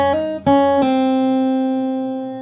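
Fingerstyle guitar plays a held chord with a few melody notes plucked on top from a song: three distinct attacks, then a long ringing sustain, close and unaccompanied.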